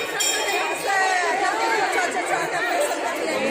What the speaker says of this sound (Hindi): ये देखो कितनी भीड़ है।